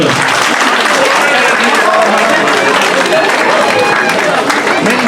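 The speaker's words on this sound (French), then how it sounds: "On peut l'applaudir." Loud, dense applause fills a room at a church thank-you gathering for Vincent, a continuous crowd clapping with voices mixed in under it throughout.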